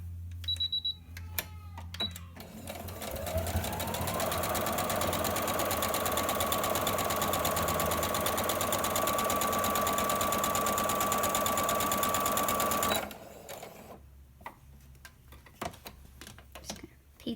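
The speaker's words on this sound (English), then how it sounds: "you just get to sew all the way from one end to till you get here" A sewing machine stitches along a fabric face mask, its motor whirring in a steady fast rapid rhythm for about nine seconds, preceded and followed by quieter clicks and handling of the cloth, with no speech.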